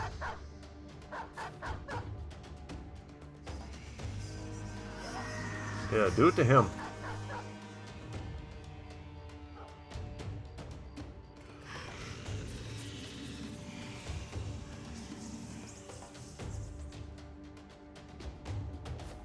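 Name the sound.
dogs barking in Battle Brothers video game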